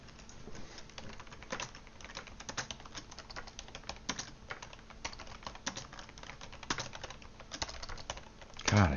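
Rapid, uneven clicking of keys on a computer keyboard during a Clash of Clans session, close and fairly quiet, with bursts and short pauses continuing throughout and a brief louder knock at the very end.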